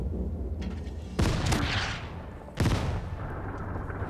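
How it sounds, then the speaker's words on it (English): Two heavy booms of mortar fire in the tank strategy game Total Tank General, each a sharp blast that rumbles away, about a second and a half apart, over a low steady background hum. "Don't like that mortar."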